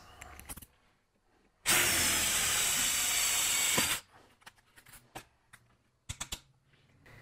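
A drill bit opens a small pilot hole in metal up to 3/16 inch while an oversized spoke is made. After light tapping comes one loud, steady grinding burst of about two seconds, then quiet clicks and handling sounds.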